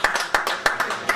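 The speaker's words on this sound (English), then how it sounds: "By a round of applause." Audience at a stand-up comedy show claps in sharp, separate bursts with a loose, uneven rhythm, moderately close and fairly quiet, with no crowd roar behind it.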